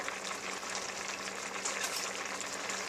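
New England clam chowder boils in a pot on the stove, giving a steady, continuous bubbling hiss at close range with no pauses and no talking.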